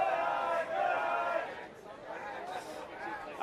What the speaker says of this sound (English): Those are the dulcet tones of the Seattle Revolution bench you are hearing there. They are a cheering and happy, excited team.